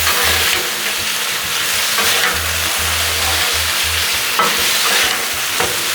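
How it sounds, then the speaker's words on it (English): Steak frying on a Blackstone griddle while being stirred around, a loud, continuous sizzle with steady hiss and occasional scraping bursts throughout. "Now you can't let this steak stay on here long. You gotta keep it stirred up."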